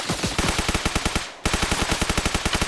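Automatic machine gun fire in the military shooter game Arma Reforger: two long bursts of rapid, evenly spaced loud shots, broken by a brief pause in the middle.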